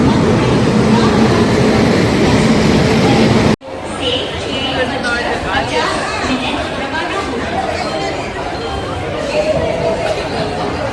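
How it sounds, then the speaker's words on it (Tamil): A dense crowd chatters loudly on a busy platform at Madurai railway station beside the Rameswaram passenger train on a Sunday, many voices overlapping, with a sudden cut partway through and rumbling station noise underneath. "மதுரை டு ராமேஸ்வரம் போகக்கூடிய இந்த பேசஞ்சர் ட்ரெயினுக்கு கிரௌட பாருங்க."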